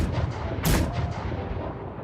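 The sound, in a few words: cannon shots in the Hunger Games Simulator video game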